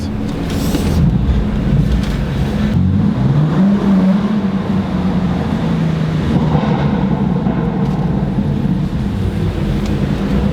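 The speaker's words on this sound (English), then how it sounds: "so you can hear the exhaust a little bit" A steady low engine drone fills the whole stretch, with a deep rumble and some rising pitch in the middle, from a BMW M4 Competition exhaust heard through an open window inside the moving car.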